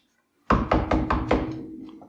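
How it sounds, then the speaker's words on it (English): Four firm knocks on a door, evenly spaced and loud, struck close by during a tabletop role-playing game session, with a short ringing tail after the last knock. "That was only 4 knocks."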